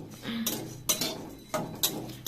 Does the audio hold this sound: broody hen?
no